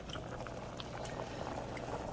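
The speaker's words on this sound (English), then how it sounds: "now see how it's boiling real hard?" Rice boiling hard in a pot for shrimp étouffée, a steady, dense bubbling and hiss that carries on without pause at a quiet, close level.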